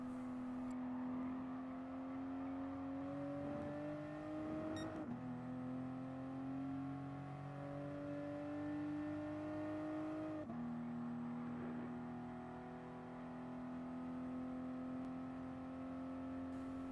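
Toyota GR Supra racing engine at the Nurburgring in Gran Turismo Sport, a steady loud drone rising in pitch under full throttle, with brief dips at two gear shifts before climbing again.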